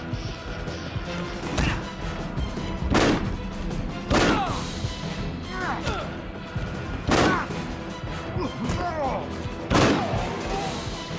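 Pistol shots in the video game Afterfall InSanity, a series of evenly spaced sharp cracks roughly every one to one and a half seconds over steady background noise, with a voice talking in between.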